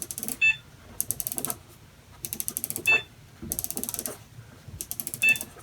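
A Maytag Bravos washer control dial turned counterclockwise with the power off, giving bursts of quick ratcheting detent clicks in several separate turns, close and fairly loud, with no voices.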